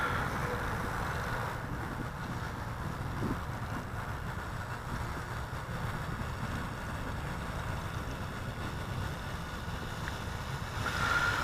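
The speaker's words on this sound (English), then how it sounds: "Gotten a little ground effect there with this stiff breeze." A stiff breeze blows across an RC plane flying field, making continuous broadband rushing and buffeting that stays fairly even from start to finish, with no voices.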